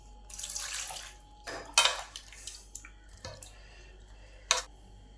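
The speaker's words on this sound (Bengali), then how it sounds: "এবার পেঁপেগুলোকে ভালো করে পরিষ্কার করে ধুয়ে নেব।" Sliced papaya being rinsed in water in a kitchen, with splashing, sloshing water and a few sharp clinks of a bowl or utensil, close by and without speech.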